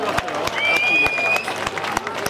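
An audience at the Kubešova Soběslav 2013 festival applauds a band, with clapping that is steady, dense and fairly loud, sharpened by regular louder claps and carried by a general crowd murmur.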